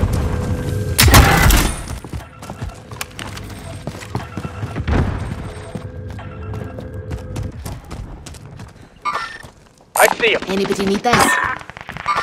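Gunfire in Call of Duty: Modern Warfare: scattered loud shots and bursts among game effects, with a sharp burst near the start and another cluster near the end, under brief talk.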